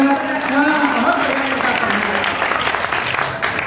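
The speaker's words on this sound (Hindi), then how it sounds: "ताली वाली बजा दिया करो" Audience applause at a Hindi kavi sammelan poetry gathering, a sustained wash of clapping with talk and laughter mixed in, fairly loud and close.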